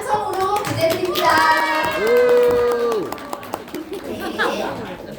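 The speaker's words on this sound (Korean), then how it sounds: "큰 박수 함성으로 보내드립니다" An audience at a lively group meeting breaks into loud applause and cheering, dense clapping mixed with excited shouting voices that swell and then fade into scattered claps.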